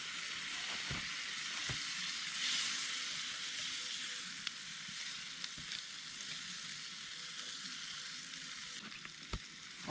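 Coconut oil and Worcestershire sauce stirred in a pan at a remote wilderness campsite, a steady close sizzle and hiss of frying with occasional soft knocks of the utensil against the pan.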